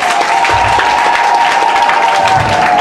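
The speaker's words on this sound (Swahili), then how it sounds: "Hapa Bwana, makofi, shangwe na vigelegele." A church congregation at a deliverance and healing service breaks into loud, sustained applause mixed with crowd cheering and high-pitched shouts, a dense, roaring wall of sound that fills the whole stretch.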